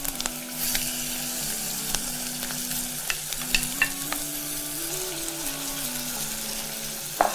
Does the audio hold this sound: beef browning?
yes